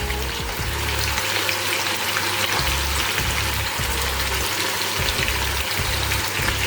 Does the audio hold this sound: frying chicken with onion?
yes